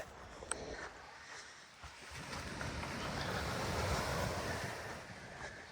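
Ocean surf washing onto a beach, a steady broad wash of waves with wind buffeting the microphone throughout, swelling slightly toward the middle and carrying no speech.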